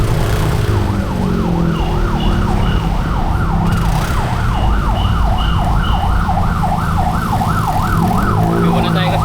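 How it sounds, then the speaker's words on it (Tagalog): An ambulance siren wails loudly in a steady rising-and-falling pattern as it passes on the road, with traffic rumble underneath and no talk. "Hindi muna tayo kasi may ambulansya."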